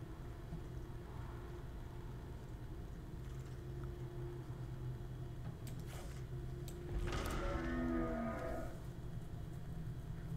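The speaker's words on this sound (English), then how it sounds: "That sounded like a cow." Cow-like moo sound effect in the Magic: The Gathering Arena video game, a drawn-out bellowing call rising over a quiet background hum around the middle of the stretch, heard alone without talk.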